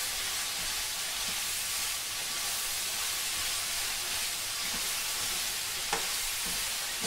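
Garlic and vegetables stir-frying in a hot pan for a Thai-style stir fry, giving a steady, close, unbroken sizzle with a faint clatter of stirring and no talking.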